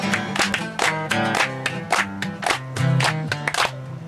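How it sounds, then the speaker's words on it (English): A concert crowd in Cornwall claps along in rhythm to a song, with steady, evenly spaced claps over the music at moderate volume. "Yeah, you can clap along here."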